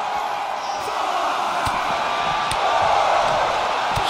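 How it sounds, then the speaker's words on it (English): A roaring arena crowd in the WWE 2K23 wrestling video game, a match between John Cena and Randy Orton, forms a dense continuous cheer throughout, loud and steady with scattered sharp impacts. "Randy Orton feeding off this electric crowd."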